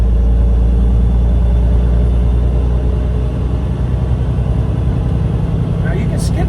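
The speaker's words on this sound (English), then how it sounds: "you rev the engine out a little further" A semi truck with a 10-speed manual gearbox, hauling 44,000 pounds, revs its engine under load with a loud, close, low diesel rumble that builds steadily. Someone talks over the engine noise.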